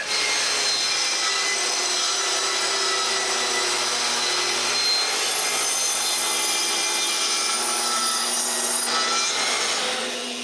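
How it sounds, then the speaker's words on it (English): Continuous high, hissing abrasion of a power sander working over wooden workbench panels, loud and steady throughout, with no voices. "After sanding both panels"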